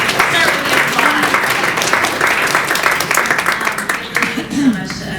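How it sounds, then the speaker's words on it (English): Audience applause at a storytelling event, loud and continuous clapping filling the room, with a few voices calling out over it. "start with the applause"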